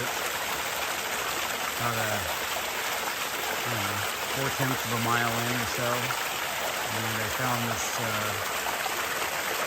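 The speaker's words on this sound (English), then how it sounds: "I guess it's kind of a waterfall stream. It's cascading down." A small waterfall stream cascades beside a forest trail near Mt Rainier, a steady close rushing and splashing of water that continues beneath someone talking through most of the stretch.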